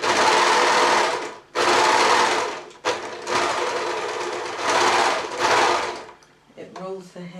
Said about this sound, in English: This overlocker does a rolling hem, so that's what I'm doing at the moment.